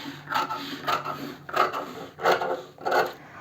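Scissors cutting pieces for a broderie anglaise blouse, two layers of fabric at once: five close, rhythmic rasping snips at roughly even intervals, with nothing else in the background.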